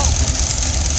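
A 1946 New Holland model 76 hay baler runs in a field, its engine chugging in a steady low rumble as the plunger drives hay into the bale chamber, loud and continuous throughout.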